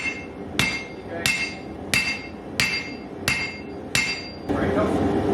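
Hammer forging a Japanese-inspired steel chisel, six evenly spaced ringing metallic blows on hot steel at a steady rhythm, close and loud, followed by a brief scraping clatter, with no talk.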